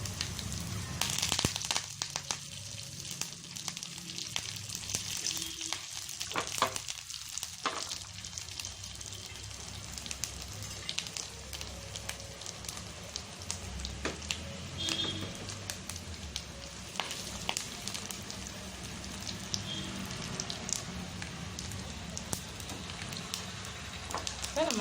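Ginger frying in hot coconut oil, a steady crackling sizzle with scattered pops that runs continuously and close, with brief faint clatter over it.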